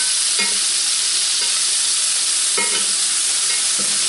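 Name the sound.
pieces of beef searing in a pan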